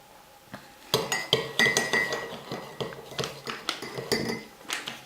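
A spoon mixing chocolate hazelnut mug cake batter in a cup, a steady run of close, bright clinks against the sides in a quick repeating rhythm, with no talking.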